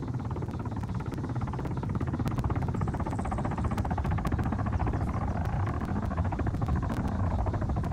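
Helicopter in the video game Arma 3, a constant loud rotor thump and turbine whine holding steady throughout with rapid rhythmic chopping pulses.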